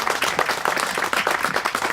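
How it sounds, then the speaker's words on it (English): An indoor audience claps for the hosts, Ann and Tom, at a campaign stop held in a house, producing a dense, steady patter of many hands lasting the full two seconds, fairly close and moderately loud, with no voice over it. "Ann and Tom really deserve a round of applause"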